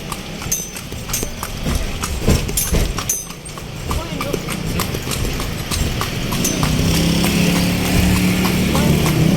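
A horse pulling a kalesa carriage through Intramuros, its hooves clip-clopping in a steady rhythm on the street, with people talking nearby and a motor engine droning in the background.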